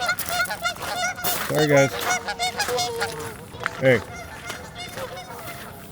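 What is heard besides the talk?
geese honking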